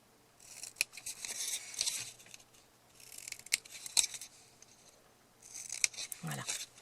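Scissors snip at an angle through the binding of a handmade mini album, giving several crisp, close cuts in short bursts separated by brief pauses.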